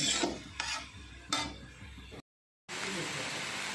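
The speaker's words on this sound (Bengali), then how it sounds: "এই বেগুনের সঙ্গে দিয়ে দিলাম, দিয়ে একটু ভালো করে নেড়ে নিচ্ছি" A spatula stirs eggplant and gime greens in a pan for a Bengali chhenchki, giving three close scraping strokes, then a brief silent gap, then a steady soft rustle of cooking.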